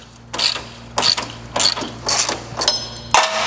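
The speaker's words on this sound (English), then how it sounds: "just use a 12 mil to loosen the center bolt" Close, loud clicking of a 12 mm ratchet loosening the center bolt of a factory car horn on a 2002-14 Subaru WRX/STI, five or six quick ratcheting bursts in a steady rhythm.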